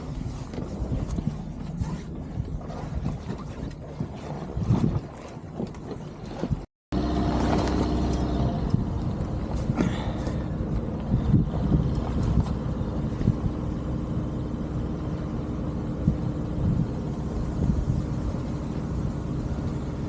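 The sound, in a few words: sailboat sailing in light wind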